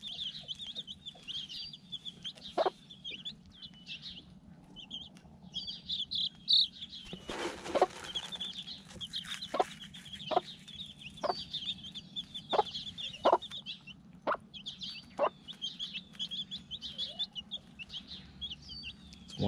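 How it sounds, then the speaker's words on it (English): Chickens cluck and call in a coop with baby chicks, steady soft peeps and chirps overlaid by repeated sharp clucks at irregular intervals, fairly close, with a brief flurry of rustling in the middle and no talking. "One jealous chicken out there."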